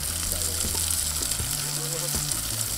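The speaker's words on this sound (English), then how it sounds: "Listen to that sizzle." Steady hissing sizzle of steaks cooking on a grill, continuous and close, with faint background voices and low hum.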